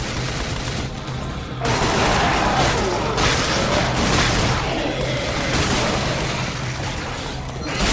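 The Teether, a machine-gun style weapon in Shadows of the Damned, firing in a dense, loud, continuous stream of rapid shots with booming impacts and no pauses.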